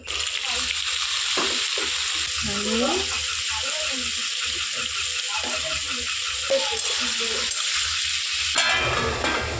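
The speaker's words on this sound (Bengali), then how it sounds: "শুকনো লঙ্কা আর 5 ফোড়ন দিয়ে দেবো" Dry red chillies and five-spice seeds crackle in hot oil in a kadai after potatoes were fried, a steady close sizzle with stirring scrapes throughout, while a voice talks over it.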